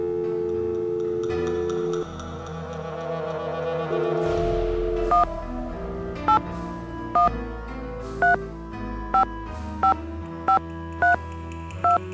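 Telephone number dialed in a Nancy Drew video game: about ten evenly spaced touch-tone beeps over background music.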